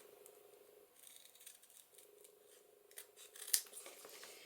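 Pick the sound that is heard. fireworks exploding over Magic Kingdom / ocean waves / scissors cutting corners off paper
scissors cutting corners off paper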